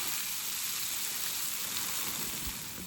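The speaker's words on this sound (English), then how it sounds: "it's starting to rain again" Steady rain falls at a campsite in Killarney Provincial Park on a fall canoe trip, a continuous dense hiss without breaks and no voices.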